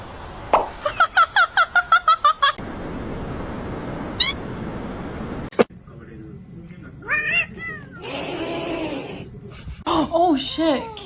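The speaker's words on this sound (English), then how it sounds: "His meow is so cute." A kitten's meows come in a string of short, bright calls at first, then sporadic thumps and further mews mixed with people talking and exclaiming nearby.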